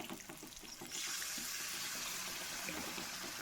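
Water poured from a tap or jug into a pan of spicy Bengali tengra fish curry, a steady splashing rush that swells louder after the first second and continues without talk.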